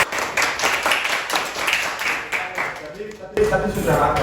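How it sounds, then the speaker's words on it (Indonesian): A classroom of students claps for two classmates during a micro-teaching lesson on electrical hand tools, a brisk, uneven patter that fades out, followed by a voice speaking. "tepuk tangan dulu buat Imam sama Nela."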